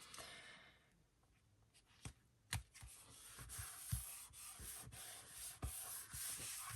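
Paper and glue are handled against a card front cover while building a 6 x 6 baby girl explosion box, with soft rubbing and scraping strokes plus a few sharp taps, close and quiet without speech.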